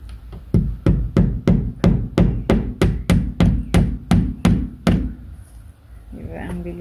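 A hammer drives nails into house siding with about fifteen sharp, evenly spaced blows in quick rhythm, close and loud. A voice speaks briefly at the end.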